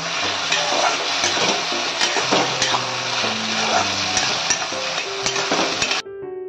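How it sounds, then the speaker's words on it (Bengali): Curry with added salt frying in a pan, a steady broadband sizzle with scattered scraping stirs under a tonal melody that runs throughout, cutting off near the end. "লবণ দিয়ে সুন্দর করে কষাতে হবে।"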